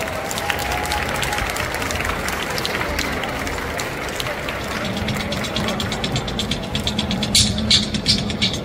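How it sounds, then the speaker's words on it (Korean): An audience at a cosplay stage show at Seoul Popcon 2022 claps steadily in a dense wash of applause, with a few louder individual claps standing out near the end. "박수 부탁드립니다."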